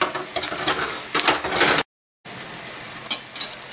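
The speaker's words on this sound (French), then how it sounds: "ça va être de faire griller mes quesadillas" Vegetarian quesadillas frying in a hot pan with a little oil, turned with two spatulas: a crackling sizzle with scraping and tapping of utensils, broken by a brief silent gap before the sizzling resumes.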